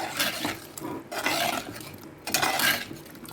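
A spoon scrapes and clatters against a cooking pot as kuzhambu ingredients, including tamarind, are mixed together, making a continuous, busy rasping and knocking with brief pauses.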